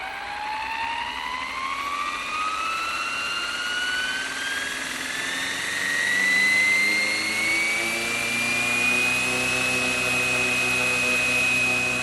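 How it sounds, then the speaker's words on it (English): A Flywing BO-105 GPS-stabilised RC helicopter spooling up, its motor whine rising steadily in pitch as the rotor gains speed, close and loud with no talk. "We're going to hit the run switch and the helicopter will spool up."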